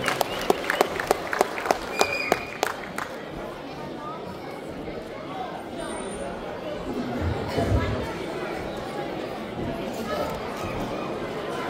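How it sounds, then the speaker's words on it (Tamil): A Tamil pattimandram debate audience claps to welcome speaker Vimal: a few sharp claps up front give way to sustained, moderately distant applause mixed with crowd chatter. "நம்மளுடைய கரகோஷங்களுடன் வரவேற்குமாறு அன்பு"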